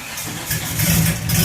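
A Honda Civic engine turns over briefly, a close, rough low rumble that builds in loudness over a second and a half with no voices.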